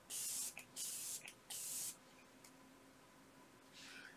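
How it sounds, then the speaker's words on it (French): Makeup setting spray misted from a pump bottle in several short hissing bursts, three close together then one softer burst near the end, with quiet room tone between. "c'est un spray fixateur de maquillage qui est censé vous faire une peau blurring."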